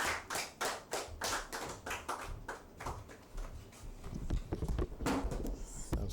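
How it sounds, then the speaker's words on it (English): A small audience at an African Liberation Day talk claps for a few seconds, sharp individual claps at first that blur into a rougher patter, faint and somewhat distant. "A round of applause for Comrade Adakwa as we welcome him to the"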